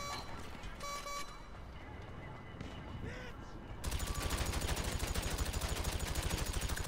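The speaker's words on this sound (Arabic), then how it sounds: "ثاني جرينيد فجر الشرطة وراي" Gunfire erupts in GTA 5 Online, scattered shots giving way to a loud, rapid automatic burst in steady rhythm that runs to the end, with game sounds beneath.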